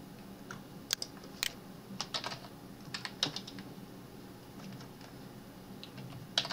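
Someone types values on a computer keyboard, tapping out irregular bursts of crisp key clicks with short pauses between them, close and alone over a faint room hum.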